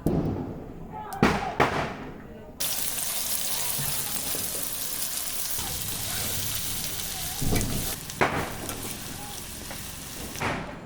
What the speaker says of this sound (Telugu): ఇప్పుడు ఫ్రైడ్ ఆనియన్స్ చేసుకుందాం అండి.